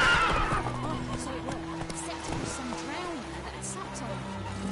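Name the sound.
Roach the horse neighing in video game The Witcher 3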